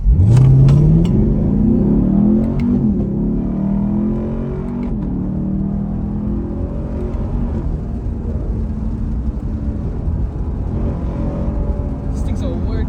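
A Chevrolet Camaro SS 1LE V8 revs hard from inside the cabin as it accelerates through a crisp gearshift, then settles into a steady, loud engine drone that continues under the driver's talk.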